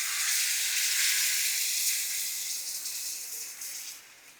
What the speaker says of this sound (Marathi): याला दोन्ही बाजूने छान खरपूस भाजायचं.